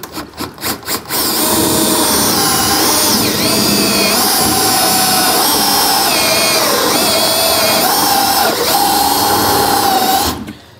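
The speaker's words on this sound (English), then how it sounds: "We'll just go ahead," Power drill on a 2018 Chevy/GMC truck bed boring out pilot holes for a Curt custom fifth wheel installation kit, a loud steady whir of roughly ten seconds after a few short bursts, close and continuous.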